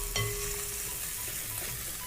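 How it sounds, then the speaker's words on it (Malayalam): Grated coconut with dried chillies and curry leaves frying steadily in hot oil for a traditional Kerala sadya dish, a continuous close sizzle with a light stir near the start and no talking. "നന്നായിട്ടൊന്ന് വറുത്തെടുക്കാം."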